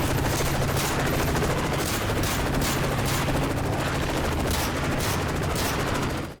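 Sustained gunfire in Modern Warfare 3 aimed at guards by a helicopter, dense and continuous automatic fire with explosions and a rotor drone underneath, loud and unbroken until an abrupt cutoff.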